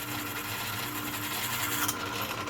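A small high-speed rotary tool whirs steadily, drilling through mother of pearl for a guitar fretboard inlay, grinding with a gritty buzzing texture that holds continuously throughout.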